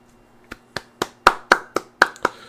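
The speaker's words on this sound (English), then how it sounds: "Yep, round of applause" Eight sharp, evenly spaced hand claps ring out close and clear in a quiet room, each a crisp isolated smack with a short decay, forming a small deliberate round of applause.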